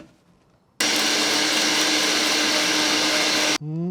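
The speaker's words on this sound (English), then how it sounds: "Brought out my bigger grinder because the other one, the Cuisine Art small one, stopped working because it overheated." A powerful electric spice grinder whirs loudly and steadily for about three seconds while grinding Chinese five spice, starting and stopping abruptly, close and alone.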